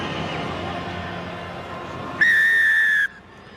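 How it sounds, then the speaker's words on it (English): A rugby referee's whistle signals kick-off in an Auckland versus Northland ITM Cup match: one sharp, steady blast lasting under a second, heard over the low hum of the stadium crowd. "Wait for the whistle, mate."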